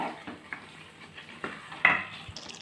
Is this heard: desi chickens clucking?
no